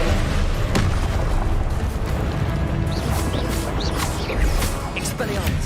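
The Confringo blasting spell fires in Hogwarts Legacy amid combat, giving repeated booming bursts and crashes over a dense, loud battle soundscape with overlapping impacts.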